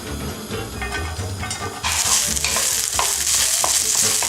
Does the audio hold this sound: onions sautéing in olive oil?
yes